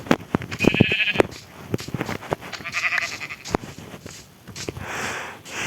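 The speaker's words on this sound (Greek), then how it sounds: "Όπα, έχει και πρόβατο." Sheep bleating in the Minecraft video game, several short nasal bleats at moderate loudness scattered among clicks and other game sounds.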